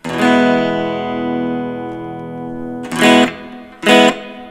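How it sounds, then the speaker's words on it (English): A sustained electric guitar chord rings out through a Melonare MA-1 mini amp set to low reverb, then two short strummed chords follow, each cutting off fairly dry. "Okay, so that's a very low reverb."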